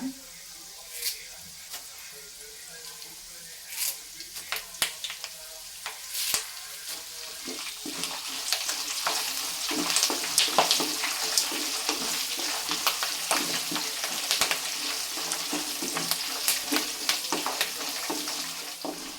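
Byadagi chillies and curry leaves fry in hot oil with lentils and peanuts, giving a bright, crackling sizzle with sharp pops that grows busier and louder partway through, along with occasional stirring scrapes.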